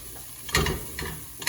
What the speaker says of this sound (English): make sure you mix it in really well so that your onions and garlic are coated in those spices